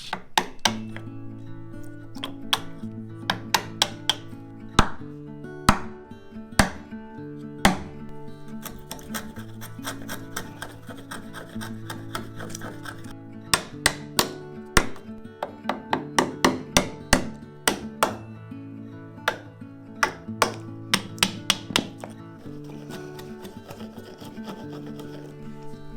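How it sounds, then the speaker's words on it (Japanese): A carpenter hand-cuts a groove into a hinoki cypress threshold for a tatami room, sharp woody knocks and chisel strikes ringing out irregularly over a steady scraping, rasping work noise, close and fairly loud throughout. "この敷居の目地を掘るのは鴨居の目と違って大変掘りにくいです。"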